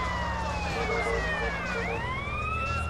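A wailing ambulance siren in the video game Grand Theft Auto: San Andreas sweeps up and down steadily, loud and close, over a constant low engine rumble.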